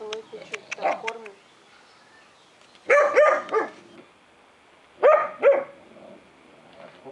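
Stray German Shorthaired Pointer puppies bark in short clustered bursts outdoors, a few yips early then two louder double-barks, with faint bird chirps in the background.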